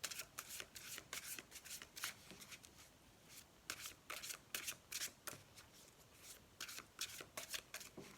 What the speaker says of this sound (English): So let's just fan the deck out.